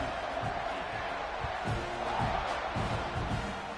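Stadium crowd at a college football game roaring steadily at kickoff, a dense, continuous wash of cheering with scattered louder swells and thumps throughout.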